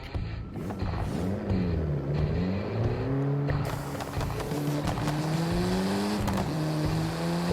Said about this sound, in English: it's becoming faster and the sound of the engine, it's different